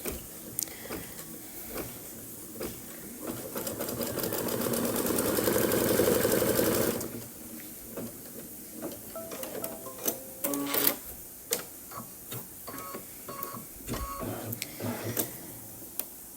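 A sewing machine stitches a mini pillow keyring with ribbon, running in a steady whirring burst that swells and then stops, followed by intermittent short stitching runs and clicks, close and fairly loud.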